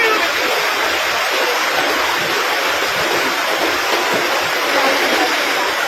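Deep, fast river water rushes in a strong current on the San Juan river in Libertad, Antique, a steady dense roar that stays close and even throughout.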